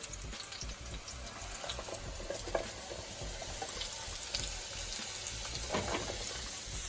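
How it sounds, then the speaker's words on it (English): Cabbage, carrot and garlic going into a pot of cooking miso soup, a steady wet bubbling hiss with scattered soft clatters and splashes, close and continuous, no voices. "So next I'm going to add the cabbage, the carrot and the garlic."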